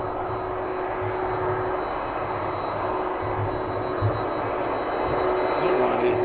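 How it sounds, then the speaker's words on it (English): A Star Air aircraft preparing for departure at East Midlands Airport at night, with a steady droning engine hum and a constant high whine that hold evenly throughout, heard from a distance. "Star Air ready for departure."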